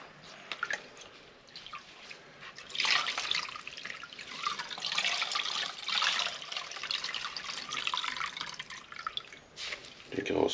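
A foam air filter for a DRZ motorcycle is squeezed and wrung out in a diesel bath, giving wet squelching and liquid splashing bursts that come and go, close and fairly quiet.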